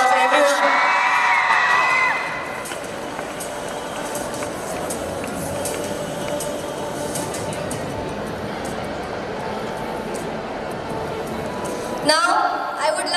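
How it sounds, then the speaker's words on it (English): A school audience at the Sloka International School's career enhancement programme cheers, whoops and claps in a dense, continuous roar of crowd noise, louder at the start and again near the end. "please give a big round of applause, everyone."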